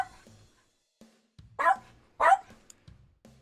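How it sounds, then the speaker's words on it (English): Small poodle barking indoors, several sharp yaps in short bursts with pauses between, close and fairly loud. "My little poodle is making noise."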